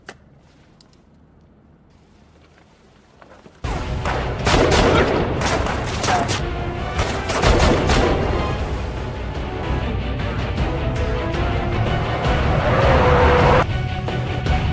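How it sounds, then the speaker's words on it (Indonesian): Gunfight scene from the film High & Low Red Rain: after a quiet opening, dense rapid gunfire bursts in suddenly and continues loudly, with sharp repeated shots, crashes and movie effects layered over a rumbling background. "Takeru sendiri kembali terlibat baku tembak dengan para kroco yang masih ada di sana."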